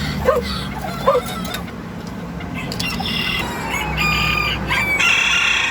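A bantam rooster crows up close in a yard, its cock-a-doodle-doo rising over faint background clucking and ambient noise.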